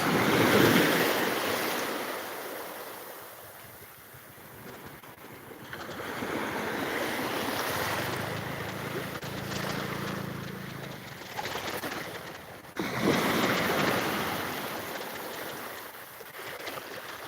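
Ocean surf washing steadily onto a beach in Thailand at sunrise, a continuous broad roar swelling and easing with each wave, with faint birdsong and light wind in the background.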